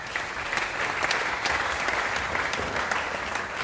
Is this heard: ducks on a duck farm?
no